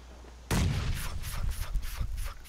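Shotgun fire in PlayerUnknown's Battlegrounds: a sudden loud blast followed by a cluster of rapid overlapping shots and echoing reports that trail off over about two seconds.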